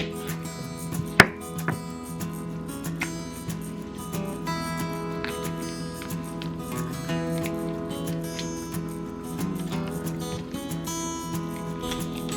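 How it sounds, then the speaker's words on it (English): Fresh jalapenos for a double batch of canned salsa are pulsed in a food processor, giving a series of short chopping bursts over a steady background of music. "I'm also going to like pulse these in the food processor a few times."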